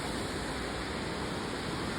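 Steady, loud roar of the waterfalls around Rastoke village in Croatia, a continuous broadband rush of falling water with no break across the whole stretch and no voices.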